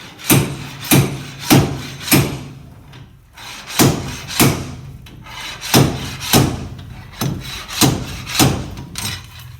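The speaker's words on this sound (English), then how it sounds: "the hammer is going to be sliding back and forth like this, and then pounding on the back of the rod" Repeated metal-and-wood thuds from a slide hammer pulling a rear wheel bearing on a 2001 Dodge Dakota, about fifteen hard knocks in uneven bursts, each with a short scraping slide, close and loud.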